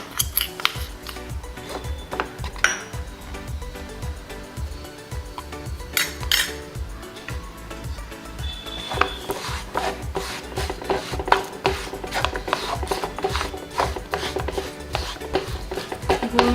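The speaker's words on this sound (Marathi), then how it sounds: "आपण त्यासाठी लागणारं सारण तयार करून घेऊ त्यासाठी आपण गूळ सर्वप्रथम पॅनमध्ये टाकू आणि तो वितळून घेऊ" Jaggery melting in a pan is stirred with a utensil, giving a busy rhythm of scraping and clinking strokes that stays close and continuous throughout.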